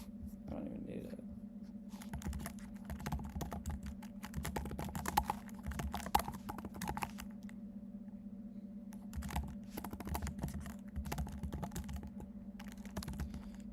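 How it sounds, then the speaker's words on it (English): Steady, rapid typing on a computer keyboard during a coding session, keys clattering continuously at close range over a low electrical hum, with a few brief pauses. "I need to practice typing, because I am missing every keystroke today"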